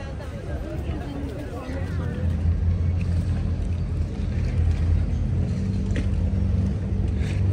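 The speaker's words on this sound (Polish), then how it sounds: "tutaj widzimy, że właśnie przypłynęły łódki" Motorboat engines rumble low and steady over floodwater in Venice, with people talking and crowd noise mixed in throughout.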